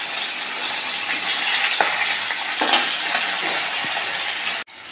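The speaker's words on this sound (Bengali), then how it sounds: "তেলের মধ্যে ওল আর আলুটা দিয়ে দিয়েছি" Chunks of elephant foot yam and potato fry in hot oil with a steady, loud sizzle and the occasional scrape of stirring, and no one speaks.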